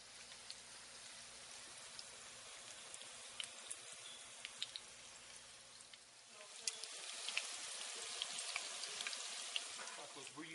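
Yellow corn tortilla tacos frying in a batch of hot oil, a steady dense crackle and sizzle that swells louder partway through, close by with no voices.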